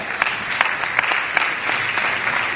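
Audience at a local leaders panel in a community center applauding, a close, lively burst of many hands clapping with sharp individual claps standing out, steady throughout without talk.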